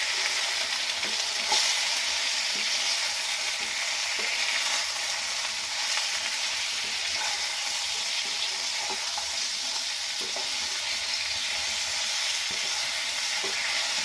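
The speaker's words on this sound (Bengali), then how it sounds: "সব কিছু দিয়ে নিয়ে নাড়াচাড়া করব।" Ridge gourd with salt and Kashmiri chilli powder sizzling steadily in a frying pan, a dense, even hiss throughout with faint intermittent spatula taps and scrapes as it is stirred.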